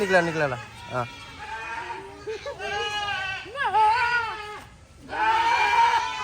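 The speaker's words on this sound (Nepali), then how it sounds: "ल यता चाहिँ बाख्रा रहेछ" Several goats bleat loudly and repeatedly close by at Bali Safari Park, wavering cries overlapping one another with short gaps between calls.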